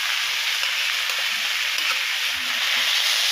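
Cumin and ginger paste frying in a pan with turmeric for a drumstick, potato and lentil-dumpling curry, giving a steady, close, continuous sizzle and hiss with no talk.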